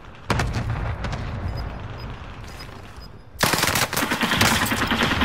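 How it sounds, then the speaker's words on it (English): Rapid automatic gunfire in a video game, a steady stream of shots that breaks briefly and then returns louder and denser. "Negan, I'm shooting your gun."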